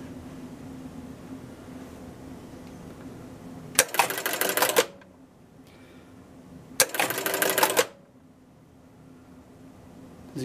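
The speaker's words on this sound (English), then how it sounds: "when I initiate it, the switches will move with the cam" An electromechanical Fun Fest pinball machine's motor turns its cams, switching the contacts in two loud bursts of rapid mechanical clatter, each lasting about a second, separated by a quiet pause with a faint background hum.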